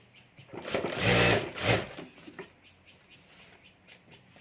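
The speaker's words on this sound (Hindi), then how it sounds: "और अब यहाँ ऊपर हमें सिलाई कर देनी है।" A sewing machine stitches the top seam of a homemade fabric party bag in two quick bursts of whirring needle action, the second shorter, then falls quiet with faint background noise.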